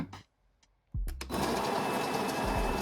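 Built-in grinder of a Gevi espresso machine grinding coffee beans, starting after a few light clicks and running as a loud, steady whir for about two seconds.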